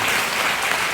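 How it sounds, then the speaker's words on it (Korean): Congregation applauding in a church service, a brief burst of dense, steady clapping lasting about a second with no voices over it. "다시 한번 감사의 박수를 드립니다"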